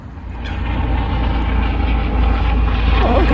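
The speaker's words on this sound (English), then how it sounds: "Helicopter." A helicopter flies overhead at a Cardiff nature park, a broad droning rumble that grows steadily louder and closer over a few seconds.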